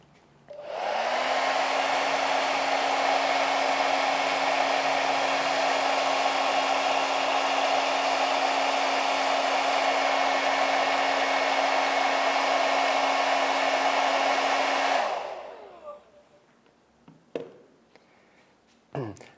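A hair dryer blows air to imitate wind over water in a demonstration of warm ocean currents, a loud steady whirring roar that runs about fifteen seconds, then cuts off and leaves a few faint clicks and knocks.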